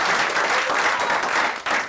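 A studio audience claps for Eliud Kipchoge during a Kenyan talk show, a dense, steady burst of applause that rolls on and briefly dips near the end.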